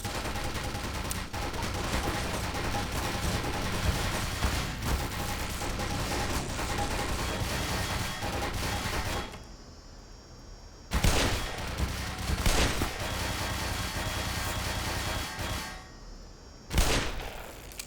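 Turret gunfire in Black Mesa, rapid dense bursts firing continuously and loudly, cutting out briefly before two more short volleys.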